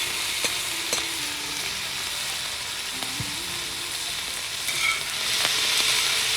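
Zucchini and squash calabacitas stirred in a frying pan, a steady sizzle with scraping spoon strokes and light clatter throughout, close and alone.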